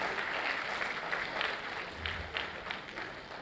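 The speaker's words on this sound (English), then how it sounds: "Let's give them a huge round of applause, parents" Parents in an audience clapping at a school annual day celebration, a dense steady wash of many hands at a distance, even and sustained throughout with no voices on top.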